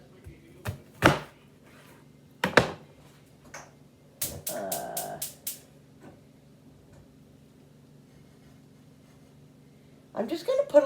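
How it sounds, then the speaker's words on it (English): A knife chops large onions on a cutting board: scattered sharp taps, then a quick burst of five rapid cuts, with a voice speaking in between. "So I'm just gonna cut them like this, cut it like this."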